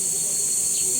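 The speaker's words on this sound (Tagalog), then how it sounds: "Narinig nyo ba yung tunog ng mga kuliglig?" Crickets chirp in a park in General Trias, Cavite, in the late afternoon. The high, continuous trilling is dense and fairly loud, with no voices over it.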